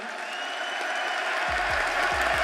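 A wrestling arena crowd cheers and sings along, a loud, dense, continuous wall of voices with no single speaker breaking through.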